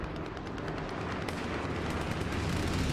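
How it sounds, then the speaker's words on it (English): A strafing run in the World War II shooter Hell Let Loose unleashes dense, continuous rapid gunfire and rumbling impacts, loud and sustained, with no voices over it. "I'm hitting it with a strafing run, just in case"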